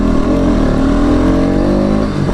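Bajaj Pulsar NS200 motorcycle (2022) engine pulling on the road, a steady loud drone held throughout without a break and no talking.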